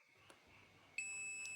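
Continuity buzzer on an Aneng automatic smart digital multimeter, a steady high-pitched electronic tone that starts partway through and holds loud to the end, preceded by a faint low hum.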